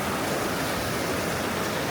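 A waterfall and stream along a hiking trail pour steadily, a dense, even rush of water that holds constant and loud throughout with no voices.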